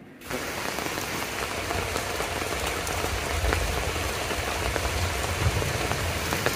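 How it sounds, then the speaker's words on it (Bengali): Steady rain drums on a rooftop during a downpour in a rural Bangladeshi home, a dense, continuous close hiss and patter with no voices. "ওকে এখন বৃষ্টি আসতেছে, চলে যায় আমি"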